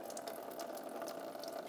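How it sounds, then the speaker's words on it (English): Coolant drains from the radiator plug of a 2000-2007 Ford Taurus, a quiet, steady trickle and splash of liquid that lasts a couple of seconds. "you're going to unscrew your radiator plug, and you're going to drain your coolant"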